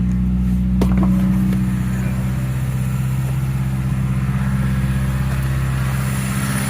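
A Toyota Celica GTS with patched silicone coolant hoses idles steadily, giving a continuous close-up engine hum with an even low drone throughout.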